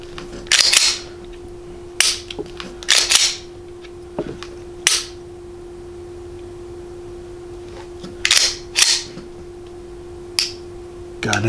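Dry-fire clicks from a Glock 19 Gen5 fitted with an aftermarket trigger: sharp, close, isolated snaps in small pairs and singles, each break followed by a quick reset click, with quiet gaps between.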